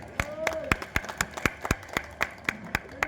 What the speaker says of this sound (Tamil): கொஞ்சம் அவருக்கு ஒரு கைதட்டு வைங்க